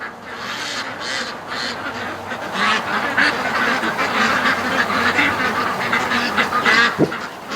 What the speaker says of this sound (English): they have a different quack, and once they start making that quack, everybody wakes up.